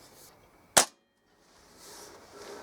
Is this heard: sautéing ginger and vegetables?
no